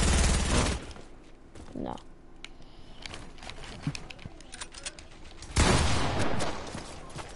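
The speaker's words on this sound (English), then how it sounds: "Firing my laser." Laser weapon firing in a video game: loud, harsh bursts of buzzing energy blasts open the scene and return later, with quieter clicks and game noise between them and a short spoken word.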